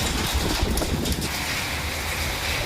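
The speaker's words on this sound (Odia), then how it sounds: "ଭୟଙ୍କର ପୁରା କୁଆପଥର ପଡ଼ୁଛି ପବନ ବର୍ଷା ଝଡ଼ ତୋଫାନ ପ୍ରବଳ" Hail pelting down in a violent storm with strong wind and heavy rain, a loud, steady roar of wind buffeting and rushing water with no pause, close and dense throughout.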